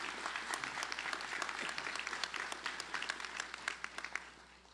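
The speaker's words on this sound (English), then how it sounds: "Please give them a round of applause for their incredible support." An audience at a white coat ceremony applauds warmly, many hands clapping steadily for several seconds before the sound tapers off at the end.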